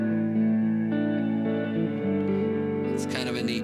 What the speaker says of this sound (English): So we send this reverb, and we send it to a delay.